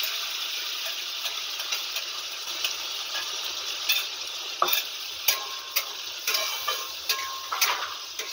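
A paste of onion, cumin and mustard fries in a pan for a fish roe dish, a steady, fairly quiet sizzle dotted with small clicks and ticks from stirring.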